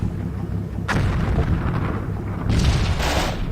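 Heavy artillery fire in the video game Combat Mission Black Sea, with a continuous rumbling barrage, deep booming impacts and a couple of sharper blasts breaking through the dense roar.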